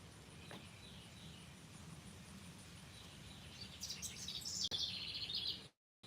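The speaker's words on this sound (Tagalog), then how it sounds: "gusto ko marinig yung mga awit ng mga ibon" Morning birdsong outdoors: faint, distant chirps and tweets over a quiet hiss, a brief cluster of brighter calls coming in toward the end before the sound cuts out.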